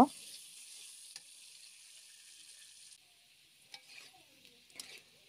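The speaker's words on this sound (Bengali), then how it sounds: "আলুগুলোকে লালচে করে ভেজে নিব আমি।" Salted potatoes frying in oil, a faint, steady sizzle with a few soft stirring knocks, no voices.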